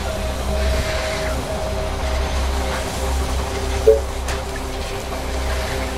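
A train in the strategy game They Are Billions rumbles into a station on the Lowlands map, with a low steady engine drone, a faint rolling clatter and a brief clank near the end.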